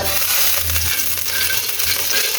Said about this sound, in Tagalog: Lagay tayo ng mantika. Mainit ng mantika.